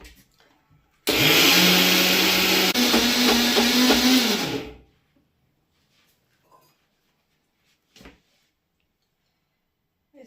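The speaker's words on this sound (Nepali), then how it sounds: "अब म यो मिक्सरमा पिस्छु।" A mixer grinder grinds soaked rice with a little water for dosa batter, a loud, close whirring motor that starts abruptly, shifts pitch once midway and runs about four seconds before winding down, followed by near silence with a few faint knocks.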